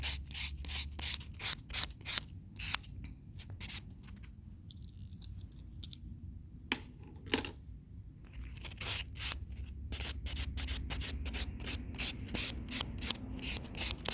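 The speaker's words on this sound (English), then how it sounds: "Bevel, that's when you go down with the buff. Bevel the edge." Steady rubbing and sanding strokes of a nail buffer working down and across the edge of a nail wrap repair, close and fairly soft, with repeated short scuffs and a brief quieter pause midway.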